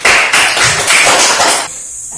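Children clap together in an Indonesian primary school classroom, making loud, fast, rhythmic bursts of applause for about a second and a half before stopping abruptly into quiet room tone.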